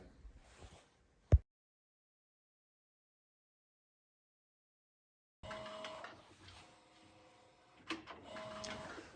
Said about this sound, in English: I started the print run on the HP DesignJet T650